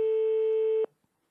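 A single steady electronic telephone tone, held for just under a second before cutting off, on a radio phone-in call to Le Guilvinec in Brittany, with no voices.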